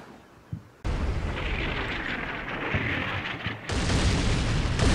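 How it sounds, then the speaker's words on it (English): Artillery shells strike an enemy bunker near Hill 1209 in Combat Mission Fortress Italy, a sudden heavy blast erupting into a long rumbling roar, then a second loud explosion wave near the end. "I am calling in an artillery strike on the newly found enemy bunker"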